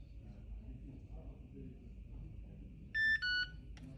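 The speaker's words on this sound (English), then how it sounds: "After 15 seconds, you'll hear the lock double beep." A Conexis L2 door lock gives a clear double electronic beep, two short close tones after a quiet stretch of faint room noise.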